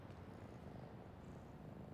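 A cat purrs in the Spider-Man Miles Morales video game, a faint, steady low rumbling purr heard alone and close.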